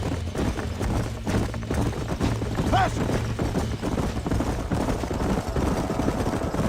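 Horses galloping in Red Dead Redemption while herding a bunch through a canyon, a steady rumble of hooves over busy game noise, with voices talking in Spanish and English on top.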